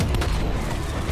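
A short, heavy detonation blast in Black Ops Cold War, a deep, rumbling boom that fills the whole brief moment at a moderate level.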